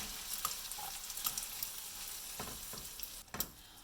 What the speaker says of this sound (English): Now I'm gonna add the tomatoes.